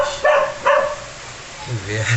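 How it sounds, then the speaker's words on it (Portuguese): A dog barks twice in quick succession, loud and close, and then gives a lower whimpering sound, all indoors over a faint steady background. "Olha aqui, o cachorro interrompendo o vídeo."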